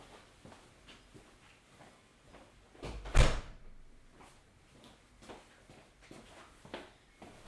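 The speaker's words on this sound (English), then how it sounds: "I got to shut the door real quick." A house door, blown open by strong gusting wind, is shut with a single loud thud midway, amid quieter shuffling and handling noises before and after.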